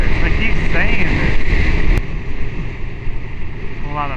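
Heavy, blustery wind roar buffeting a Forcite MK1 Founders Edition smart helmet while riding a motorcycle in traffic, loud and continuous, easing slightly partway through.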